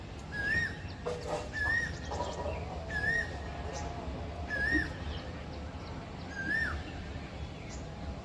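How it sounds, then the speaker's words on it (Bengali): An Asian koel repeats a rising, whistled call about five times at a steady pace. The calls carry clearly over a noisy outdoor background. "এখানে সর্বক্ষণ কোকিলের আওয়াজ পাবে"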